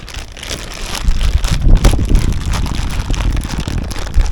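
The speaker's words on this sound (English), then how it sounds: "Oh, it's windy." Wind buffets a microphone with a steady low rumble and gusty roar, swelling in bursts throughout, no voices present.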